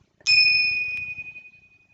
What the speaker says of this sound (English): I call these my dingers. I know they have a proper name, Tibetan bells maybe, but for me they just go ding.